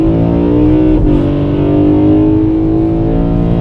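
A BMW E92 M3 V8 fitted with an Eventuri carbon fiber plenum holds a loud, steady, close intake roar with a brief rev dip and recovery, dense and raspy throughout with no voices.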